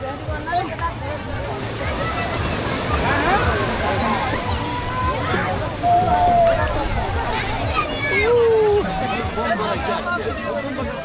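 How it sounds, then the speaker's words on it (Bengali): Sea waves wash onto the beach at Cox's Bazar in a continuous, surging roar, with a crowd's voices and chatter mixed in throughout. "সামনে বিশাল সমুদ্র, ঢেউয়ের শব্দ আর ঠান্ডা বাতাস"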